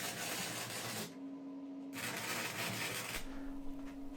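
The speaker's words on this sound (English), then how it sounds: "start tacking all the pieces in place" MIG tack welding of steel tubing pieces on a workbench gives a harsh crackling sizzle in two close bursts, each steady for about a second with a faint electrical hum between.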